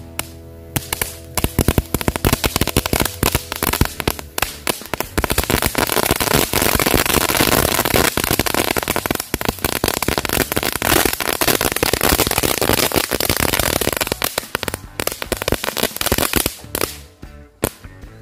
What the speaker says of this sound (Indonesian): langsung aja kita nyalakan. Kita lihat hasilnya. Mercon telur dino pretek.